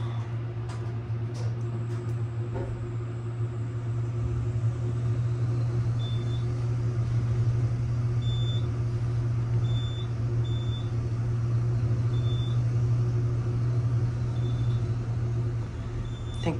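Elevator ride at Gordon Hall, Harvard Medical School in Boston, with a steady loud motor hum and drone throughout and faint intermittent high beeps.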